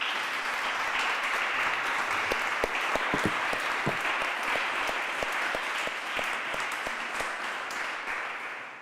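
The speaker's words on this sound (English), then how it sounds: "Let's give her a big round of applause." A conference audience gives a panelist sustained, even applause, many hands clapping together in a steady wash that slowly thins toward the end, with scattered sharper claps standing out.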